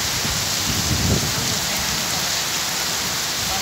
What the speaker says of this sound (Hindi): हम जब से हम आए हैं तो 15 दिन बाद आज हुई बारिश